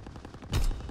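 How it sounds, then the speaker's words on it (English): Anti-aircraft gun bursts in the World War II shooter Call of Duty WWII, a rapid run of muffled thumps that swells into one heavy, loud blast near the end. "Anti-aircraft bursts commenced."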